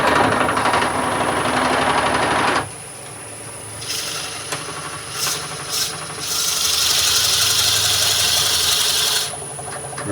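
Wood lathe hollowing a cherry root ball form: a loud broadband cutting rasp for a few seconds, a near-silent pause with brief scrapes, then a long steady hissing cut resuming before stopping.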